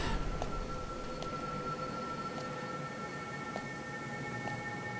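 A train passes with a steady, dense rumble and sustained tonal whines over it, continuous and fairly loud for the whole stretch, with no voices.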